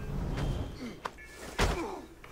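A stealth takedown in Assassin's Creed Origins: a muffled thump lands around the middle, then a heavier thud with a sharp hit follows, set against low game ambience and faint background sounds.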